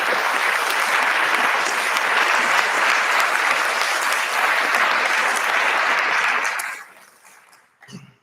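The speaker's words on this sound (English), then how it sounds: "Please give President Samhat a round of applause." A large audience at an opening convocation applauds President Samhat in a loud, sustained wave of clapping that holds steady for about seven seconds before fading quickly, followed by a brief low thump near the end.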